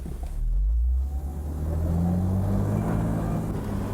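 A 1995 Mercedes-Benz G-Wagon 4x4 drives off-road, its engine rumbling loud and close with a steady low drone and rising revs.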